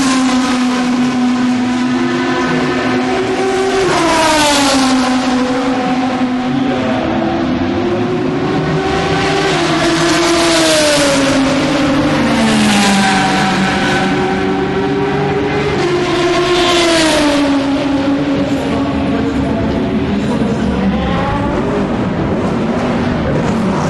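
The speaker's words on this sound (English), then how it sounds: "Corvette leaving the pit. Dirty noise." Loud Corvette race car leaving the pit at a 2008 race, its rough, dirty engine note rising and falling through repeated upshifts, close and continuous with no speech.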